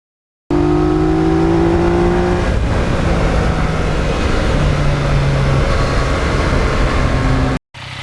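A 2020 Yamaha MT-09 motorcycle engine drones loud and steady while riding, with wind rush over it and a brief dip near the end.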